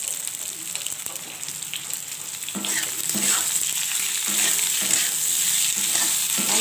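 Eggplant and potato fry in oil with five-spice seasoning, a steady close sizzle broken by repeated scraping stirs, growing slightly louder, with no talking.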